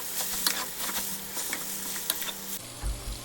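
Spaghetti being tossed and mixed in a hot pan with garlic, steady sizzling broken by repeated close scraping and clattering stirs, with a thud near the end.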